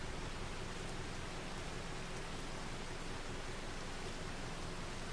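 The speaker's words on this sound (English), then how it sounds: "when's it going to stop raining?" Heavy rain pours on the Hutan Pantai map in Farming Simulator 25, a dense, unbroken roar of broadband hiss at steady loudness, heard alone without speech.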